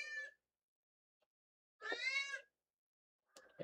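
A cat yowls loudly in a kitchen in two drawn-out, insistent meows, the first short and the second longer, followed by a brief third cry, with silence between them.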